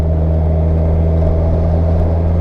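Kawasaki Z1000SX motorcycle engine holding a steady 2,500 revs while cruising in fifth gear, a loud, continuous low hum with strong even drone and road rumble, unchanging throughout with no talk.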